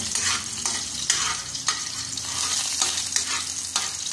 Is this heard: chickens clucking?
no